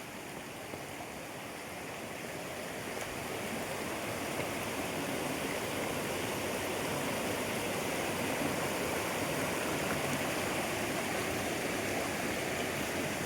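A rural stream rushes steadily near farmland orchards, a dense, continuous broadband wash of flowing water that swells slightly in the first few seconds and then holds even and close.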